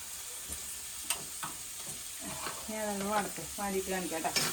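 Onions with salt sauté in a pan, a soft steady sizzle broken by stirring scrapes and clinks, with a voice speaking faintly in the background.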